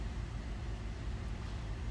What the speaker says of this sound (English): As you can hear, the motor running.